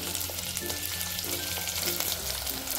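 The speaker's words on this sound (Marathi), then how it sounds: "ही डाळ छान आपण अशी व्यवस्थित हलवून घेतली" Dal fries and sizzles in a hot pan as it is stirred, a steady close hiss with light scraping throughout a short stretch.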